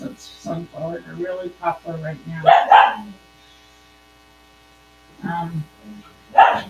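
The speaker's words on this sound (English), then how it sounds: "excuse my dogs. They always seem to bark when I'm doing this." Dogs bark in a house in two short bursts of a few sharp barks each, between stretches of someone talking, over a faint steady mains hum.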